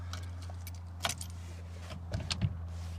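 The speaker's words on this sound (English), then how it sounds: "I'm gonna grab my key" A truck key is grabbed and keys jangle in a few quick metallic bursts over a low steady hum.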